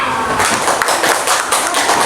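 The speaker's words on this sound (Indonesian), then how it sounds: "Tepuk tangan." Hands clap together in a classroom audience, a dense mix of sharp taps and thuds that swells and continues throughout, fairly loud and close.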